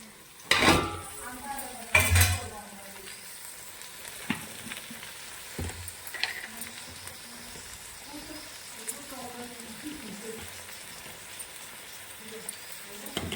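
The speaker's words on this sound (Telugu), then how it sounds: "ఉల్లిపాయ పచ్చిమిరకాయ కరివేపాకు చక్కగా వేగిని ముక్కలు వేసేస్తానండి" Drumstick (moringa) pieces tip into a pan of fried onions, green chillies and curry leaves for tamarind pulusu, giving two sharp clattering drops early on, then a low, steady sizzle with faint utensil scrapes and stirring.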